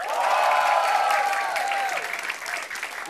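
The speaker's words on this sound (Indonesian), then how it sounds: "Ini yang dinilai tepuk tangannya." Comedy show audience at a stand-up comedy battle applauding loudly, with dense, steady clapping from a crowd that tapers slightly toward the end, with a few voices mixed in.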